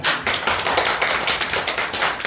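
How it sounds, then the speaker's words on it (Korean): A church congregation claps together during a Sunday morning Korean worship service, a steady dense roll of many hands that fills the room and carries on without pause. "박수"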